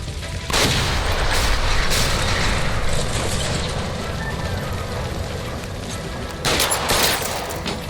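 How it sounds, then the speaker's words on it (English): Gunfire at a gas line by a stove in LA Noire, a dense burst of loud shots and booms running nearly throughout, with a second sharp flurry near the end. "Shoot the gas line, Cole"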